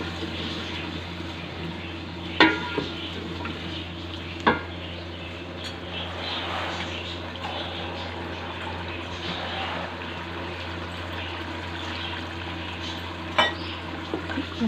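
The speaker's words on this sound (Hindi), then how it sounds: "थोड़ा सा पानी का छींटा दूंगी ताकि हमारे मसाले जो सारे अच्छे से बुनाई हो जाए इनकी।" Spiced masala for mutton kofta stirred and sizzling in a pan after a splash of water, a steady close fry hiss with a few sharp scrape and clink peaks from the stirring spoon.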